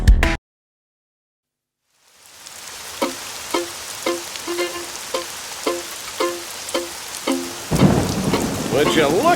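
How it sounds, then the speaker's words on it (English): A cartoon rainstorm with thunder: after a brief sound and a moment of silence, steady rain fades in with regularly spaced tapping pulses, then a loud rolling rumble of thunder swells at the end. "Would you look at all the rain?"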